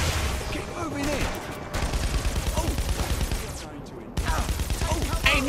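Rapid gunfire in the video game Saints Row 3 comes as dense, fast bursts of shots with brief pauses, while voices talk over the action.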